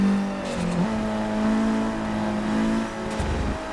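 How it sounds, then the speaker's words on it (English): In Forza Motorsport 6, a 2014 Chevrolet Cruze WTCC race car is driven on the Nordschleife, its engine held high in the revs as a loud, sustained, buzzing whine that climbs and dips slightly, with brief shifts, close and continuous. "I've had some comments about how sometimes I over rev the car"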